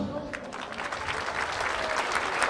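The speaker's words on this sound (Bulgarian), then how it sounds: "Вашите аплодисменти за Здравко Димитров," Lively applause from an audience at a benefit performance, a dense steady clatter of clapping that swells slightly toward the end.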